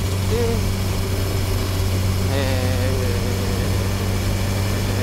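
A steady low Honda CB1000R motorcycle engine idle rumbles continuously and loudly throughout, with a brief voiced sound partway through.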